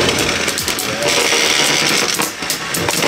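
Beyblade Burst tops spinning and clashing in a stadium, a loud continuous whirring and scraping rattle with no break throughout.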